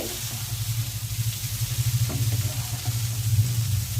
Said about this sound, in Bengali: ব্রকলিটা একটু ভালো করে ভেজে নিচ্ছি।